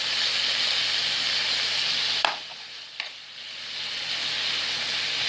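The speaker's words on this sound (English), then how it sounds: "And then continue to cook the turkey and the onions." Ground turkey and diced onions sizzle and fry steadily in a pan, a continuous close hiss broken by two brief clicks of stirring near the middle.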